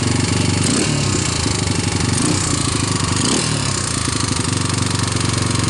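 A 1999 Honda Fourtrax TRX250X ATV engine runs steadily after a cold start, a loud, close, continuous buzzing putter with slight surges and no talking.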